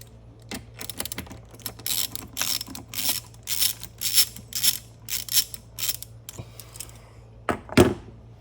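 A 1/4 inch (7 mm) socket wrench ratchets to loosen an air intake band clamp on a 2024 Mustang, giving close, quick clicking bursts in an uneven rhythm, ending with a louder knock.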